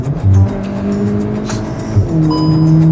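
A Cupra Formentor VZ SUV accelerates close up, its engine rising steadily in pitch over a few seconds and holding a strong, continuous tone with a brief dip near the end.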